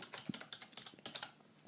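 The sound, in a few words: typing on a computer keyboard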